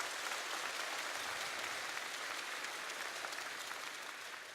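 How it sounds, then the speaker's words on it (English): A convocation audience applauds a city councilperson with a continuous, even round of clapping from a large crowd, heard somewhat distant and soft, tapering slightly at the end. "let's give her a round of applause"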